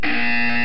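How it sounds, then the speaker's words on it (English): A loud, steady electronic buzzer tone from the video game Portal 2, with a harsh, harmonic-rich timbre, sounding alone for under a second. "You will hear a buzzer."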